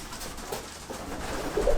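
Homing pigeons in a racing loft holding about nineteen hens, cooing softly in a steady low murmur close by, with scattered rustling and a slightly louder coo near the end.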